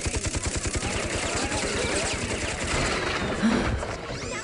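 Game gunfire from a Persona Q cutscene rattles in a rapid, rhythmic volley, loudest at the start and then blending into a sustained, busy wash of shots, with no speech.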